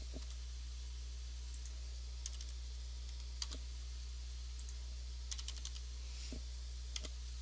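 Sparse, quiet clicks of a computer keyboard while typing a new name into a Revit type dialog, with irregular single keystrokes and short clusters over a steady low electrical hum.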